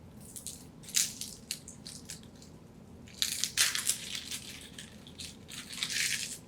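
An onion halved and being peeled by hand, papery skin crackling and tearing in short irregular bursts, quiet and close with small pauses between pulls.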